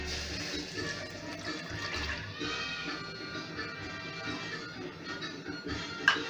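Milk poured into a blender jar for homemade cappuccino makes a quiet, close trickling and gurgling of liquid that lasts a few seconds, with no talking.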